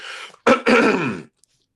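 A single rough throat clearing followed by a short cough-like rasp, close and loud, then silence.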